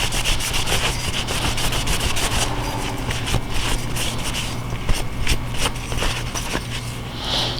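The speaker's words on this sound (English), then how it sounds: "I'm just wiping off the excess just because it's easier to see where if I missed any spots" Aluminum black is wiped off the grooves of an acid-etched lightsaber part, making close, steady rubbing strokes over a low constant hum.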